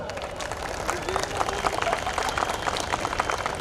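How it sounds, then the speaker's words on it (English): Audience applause at a primary school annual day, a dense, steady wash of clapping from a large crowd with light babble underneath. "So I think there is a huge round of applause."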